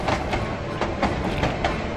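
A train in Night of the Rabbit rumbles past steadily with rhythmic clickety-clack wheel beats, loud and close, with no talk.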